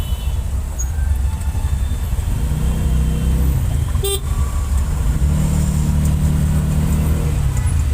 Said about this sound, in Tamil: பாருங்கள் எப்படி டிராஃபிக் இருக்குன்னு